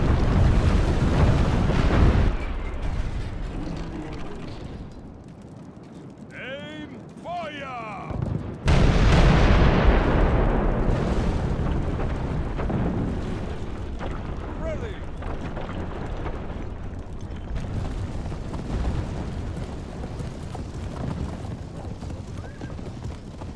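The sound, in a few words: cannon fire against city walls in video game Medieval II Total War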